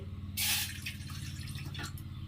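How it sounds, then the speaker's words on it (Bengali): Half a bowl of water is poured into a pan to make sugar syrup, a short close splash lasting about a quarter second with a smaller trickle after it, over a quiet kitchen hum. "তো এখন আমি হাফ বাটি জল দিয়ে দিচ্ছি।"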